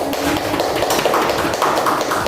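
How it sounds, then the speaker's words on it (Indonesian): A classroom group applauds a presentation in a continuous burst of many hands clapping at close range, filling the room without talk. "Beri aplaus kelompok 1."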